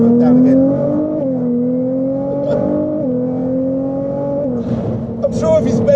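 A 660 bhp Nissan GTR R35 accelerates hard, its engine note climbing steadily in pitch and dropping back at each of several quick gear changes, loud and close from inside the car.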